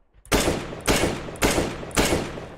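Four loud, evenly spaced rifle shots ring out from a CSGO match, each a sharp close blast with a short decaying tail and no voices.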